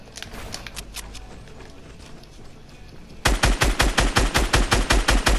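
Rapid video game gunfire that begins faint and scattered, then turns into a loud, steady automatic burst of evenly spaced shots in the second half.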